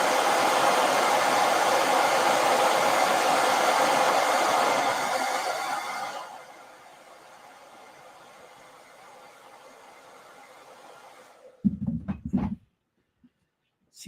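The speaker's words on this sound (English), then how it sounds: "Let me hit that with a blow dryer so I don't get my hands." A handheld blow dryer blasts steady hot air over freshly painted black and blue artwork, a loud close whoosh for about six seconds before dropping to a softer hum, then cutting off with a few clunks of handling.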